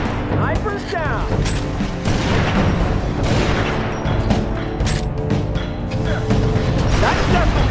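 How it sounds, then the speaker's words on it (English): Gunfire in the video game Halo 3: ODST rattles in loud bursts and booms, mixed with clanking game effects, under steady in-game voices. "That's definitely gunfire."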